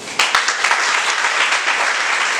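An audience at a women's festival event in Tiassalé bursts into loud, sustained applause, a dense wash of many hands clapping close by for the whole stretch.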